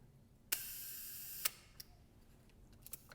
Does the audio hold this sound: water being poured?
no